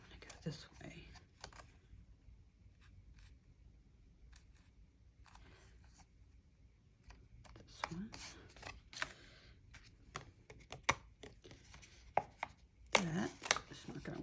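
Coffee-dyed card stock paper crinkles and crackles close by in irregular bursts of dry rustling, growing busier toward the end, with a soft voice murmuring at moments.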